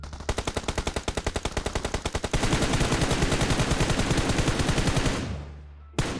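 Rapid automatic gunfire from an online shooter video game, loud and sustained as a dense burst of shots that blur into a continuous roar before cutting off abruptly, with one final report.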